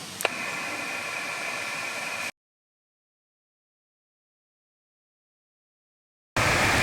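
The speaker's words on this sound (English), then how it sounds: "I'm hearing those static crashes up here as well, Rich." Loud broadband ham radio static hisses with a sharp crackling crash, cuts to silence, then the hiss returns.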